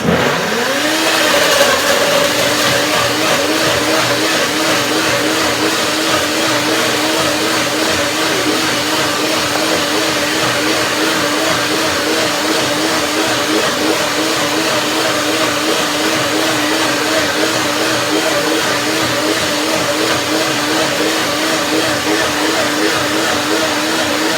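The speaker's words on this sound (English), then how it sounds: "blending up a little bit ginger with tangerine and persimmon" A blender whirs continuously at high speed, blending ginger with tangerine and persimmon, a loud, steady motor drone with a brief spin-up at the start and no talking.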